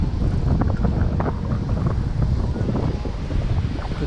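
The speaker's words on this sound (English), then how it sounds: "you're going to hear the wind for a little while until I get away from the Williamsburg Bank building" Steady wind buffeting the microphone while cycling past the Williamsburg Bank building in Fort Greene, Brooklyn, a loud continuous low rumble with gusty texture lasting throughout, no talking.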